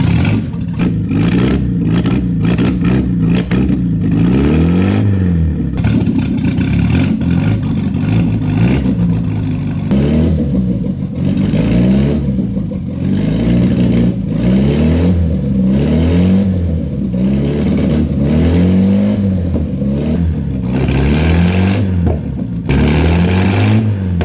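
An old car engine with a newly wired rev counter, cranking then running and revved repeatedly in rising and falling surges, loud and close throughout with no talking.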